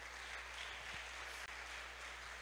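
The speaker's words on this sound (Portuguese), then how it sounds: "Vamos aplaudir ao Senhor mais uma vez?" A church congregation claps for the Lord during a sermon, a faint, diffuse, continuous patter of applause over a steady low electrical hum.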